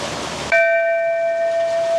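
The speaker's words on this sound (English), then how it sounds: "experience the bliss of water sound and the bell sound" A bell rung beside a waterfall at a scenic spot near Chiang Rai, Thailand, strikes once with a clear ringing tone that sustains and slowly decays over a steady rush of falling water.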